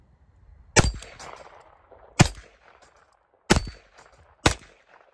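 A Cobray firearm fired during a function test: four sharp, loud single shots spaced irregularly about a second apart, each followed by a short metallic ring and some faint handling noise.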